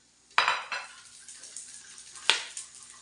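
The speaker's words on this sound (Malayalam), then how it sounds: "അതിട്ട് നമുക്കൊന്ന് ഇളക്കി കൊടുക്കാം." A spoon clinks and scrapes against a pot as whole spices for kuzhi mandi (cinnamon, cardamom, cloves, bay leaves and dried lime) are stirred, with two distinct metallic knocks standing out near and clear.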